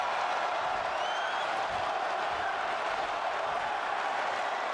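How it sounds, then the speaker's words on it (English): Wrestling crowd at a Covenant Pro Wrestling show chanting in unison, a dense, steady roar of many voices filling the hall throughout, with no single voice standing out. "The crowd is chanting one more time"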